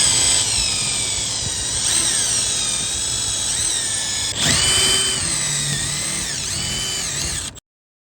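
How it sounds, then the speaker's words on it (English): A power drill bores out seven rivets on the side panel of a Quest dehumidifier, a loud continuous whine with brief dips and bursts as each rivet gives way, running steadily and close with no talk before stopping abruptly. "we're gonna have to drill out some rivets, remove side panel by drill 7 rivets"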